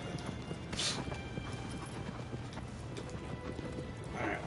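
Agro the horse's hooves clopping in Shadow of the Colossus: a quick, steady gallop rhythm of muffled hoofbeats, moderately close and fairly quiet under a game soundscape.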